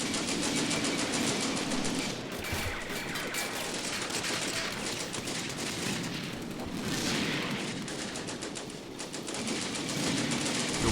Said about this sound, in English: I'm going to try to get a few more shots with just our guns.